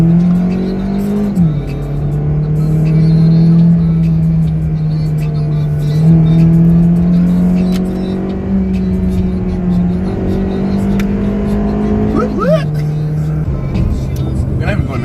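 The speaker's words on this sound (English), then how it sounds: "you can feel this acceleration." A car accelerates hard at speed, its engine droning steadily and rising in pitch through several gear changes, loud and close from inside the cabin with no other sounds.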